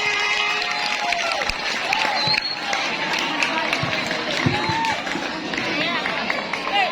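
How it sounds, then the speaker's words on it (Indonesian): A school audience at a junior high student council candidate debate breaks into sustained applause and cheering, dense clapping mixed with crowd hubbub and voices throughout. "Oke, beri tepuk tangan untuk paslon ini."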